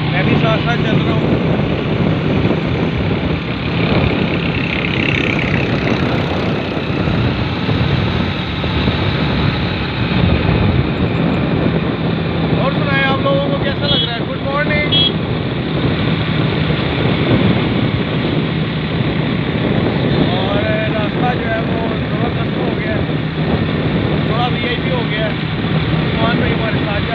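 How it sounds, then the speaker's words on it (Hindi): Continuous engine drone and wind rush from a motorcycle riding along a road on a long drive, with someone talking in Hindi over the noise throughout. "बाइक चल रही है, ये हमारा रास्ता है।"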